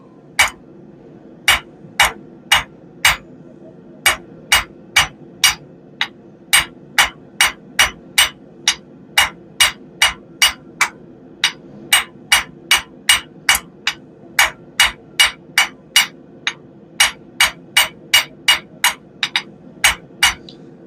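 Hammer striking hot steel on an anvil while forging a round taper, dozens of sharp, ringing blows in a steady rhythm with brief pauses, close and loud over a low background hum.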